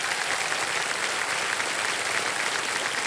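Steady applause from a studio audience greeting guests on a televised quiz show, a dense even wash of clapping that holds at one level throughout with no voices over it.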